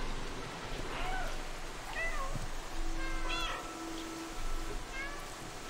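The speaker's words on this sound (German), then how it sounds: "Schön rummiauen." A cat in the video game Stray meows repeatedly, several short, clear mews spaced a second or so apart over a steady low ambient hum, with no talking.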